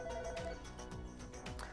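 A cell phone rings with an incoming call forwarded from a Nortel BCM desk phone system, its electronic ring pattern repeating steadily and fairly loud, with no voices over it.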